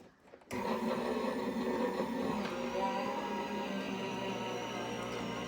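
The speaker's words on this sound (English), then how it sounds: "you do have to push it in just enough to where the machine grabs it and starts pulling" A Gemini die cutting machine draws clear cutting plates through its rollers, a steady close mechanical whir and rumble that starts abruptly and runs on without pause.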